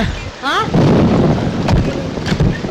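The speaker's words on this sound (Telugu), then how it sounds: "ఇప్పుడు అర్ధంతరగా ఈ వర్షం పట్టుకుంది" Sudden rain with thunder breaks out over a house, a heavy rushing downpour with a rumbling burst near the start and sharp cracks later, loud and close.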